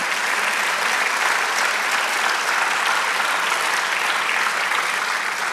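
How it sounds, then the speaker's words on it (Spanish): A church congregation applauds the Lord, with steady, loud, dense clapping from many hands throughout, unbroken and without speech. "Dele aplauso al Señor."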